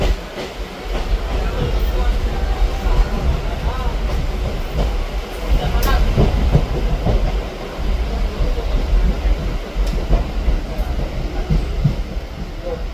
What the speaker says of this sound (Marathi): पनवेलला ट्रेन थांबलेली आहे.